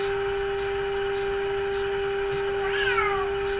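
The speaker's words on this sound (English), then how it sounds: "And I got a cat at the door." A cat at the door gives a single short meow near the end, heard over a constant steady electronic tone from a General Electric KL60 tube radio being aligned.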